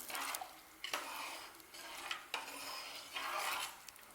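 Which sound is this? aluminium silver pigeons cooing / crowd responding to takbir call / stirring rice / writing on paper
stirring rice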